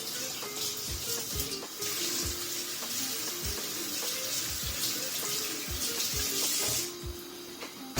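Pechay leaves are rinsed under a running kitchen tap, a steady hiss of flowing water with repeated splashes and soft knocks as the greens are handled, close and continuous.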